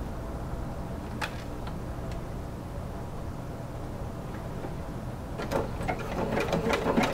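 A sewing machine running a satin stitch on corset bone casings, a continuous fast whirring hum that holds steady, with a few light ticks and a slight rise toward the end.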